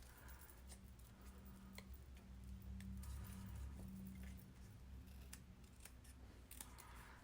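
Scissors snipping paper while folding a Garden Gate Bridge model, a series of quiet, irregular close-up cuts over a low steady background hum, with no talk.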